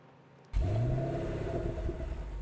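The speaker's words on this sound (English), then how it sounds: "the Porsche sounds amazing" A Porsche's engine in the Test Drive Solar Crown racing game bursts into a loud revving roar after a quiet moment, then holds a sustained, rumbling pitch close by.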